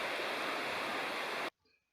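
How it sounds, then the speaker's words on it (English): A creek in Bald River Gorge wilderness rushing steadily as a broad, loud wash of water noise that cuts off abruptly, leaving faint quiet sounds. "And the creek is right over there."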